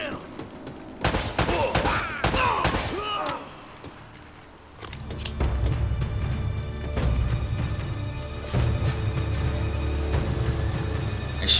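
Gunfire in Uncharted from the Nathan Drake Collection on PS4: a rapid burst of sharp shots in the first few seconds, a short lull, then sustained rumbling combat noise with occasional bangs.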